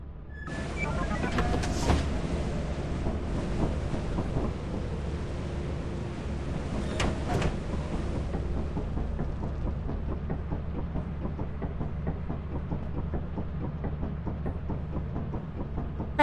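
A spacecraft touching down on a planet in Lethal Company, a steady low rumbling roar with wind-like hiss and a couple of sharp mechanical clanks early on, the high hiss fading as the landing settles into a constant low drone.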